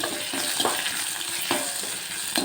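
Onions fry in oil in a pan for carrot rasam, giving a steady soft sizzle broken by a few sharp scraping stirs of a utensil, close and clear with no talking.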